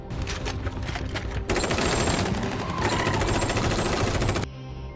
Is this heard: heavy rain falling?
no